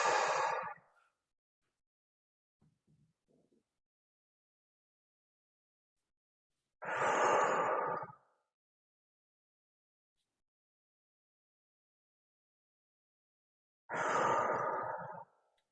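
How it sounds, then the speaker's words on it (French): Three slow, deep breaths, each a soft, close exhale spaced several seconds apart with near silence between them. "Prends 3 bonnes respirations."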